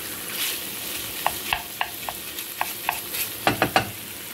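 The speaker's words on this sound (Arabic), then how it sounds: "درت الكفتة باش كتقلى" Kefta meatballs frying in a pan with a small spoonful of smen, a steady close sizzle broken by a series of sharp utensil clicks and scrapes as they are stirred.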